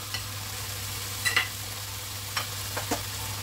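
Vegetables stir-fried with paprika sizzle quietly in a pan, with a few brief scraping stirs of the spatula breaking through a low steady hiss and hum.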